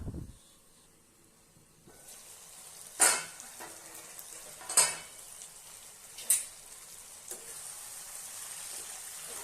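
Ingredients sautéing in a pan for a spicy Tamil dish, a steady sizzle and hiss with three or four sharp clinks and scrapes of a spoon against the pan standing out at intervals.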